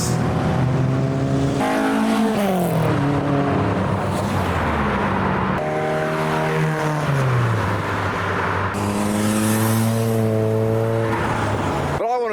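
Ford Escorts and other fast Fords pull into a car show, their engines revving and droning steadily at close range with rising and falling pitch, and faint voices occasionally under the motors.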